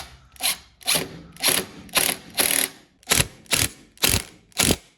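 A screw is driven into a plastic wall plug on a garage build, likely with a ratcheting tool: nine evenly spaced clicking turns, close and distinct, with no speech.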